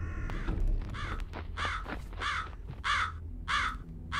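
Crows caw in the horror video game Jisatsu, a run of about six harsh, rasping calls in a steady rhythm, loud and close, with no talking over them.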